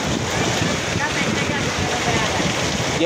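Heavy rain pours in a dense, continuous roar of hiss and patter, loud and close, with no break or change in force.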